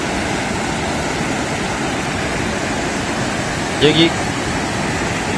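Jiktang Falls in Korea, spilling over a natural rocky riverbed, roars as steady, broadband rushing water, with a brief voice speaking faintly underneath.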